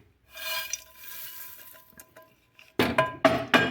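A spoon stirs a thick chocolate candy mass of oat flakes and added nuts, with soft scraping rubs followed by several louder clinks and knocks against the bowl near the end.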